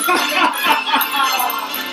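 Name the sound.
jingle bells being shaken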